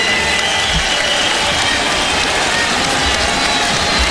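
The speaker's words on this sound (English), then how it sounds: "they'll give a nice applause to their Denver team" Dense, loud applause and crowd roar from Denver Nuggets fans standing in a packed arena during a 2009 Western Conference Finals playoff game, a continuous wash of clapping throughout.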